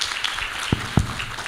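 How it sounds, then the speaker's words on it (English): Scattered applause from an audience at an international democracy conference, a soft continuous patter of clapping with a couple of sharper claps standing out, fairly distant and brief. "Okay, applause for"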